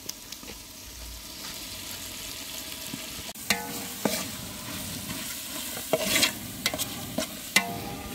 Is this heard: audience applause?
no